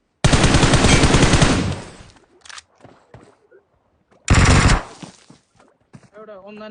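A dense, loud burst of firecracker crackling, a few scattered pops, then a second intense volley, followed by a fainter rattling tail.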